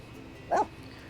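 A single short dog bark from The Sims 4 video game, faint and brief over a quiet background.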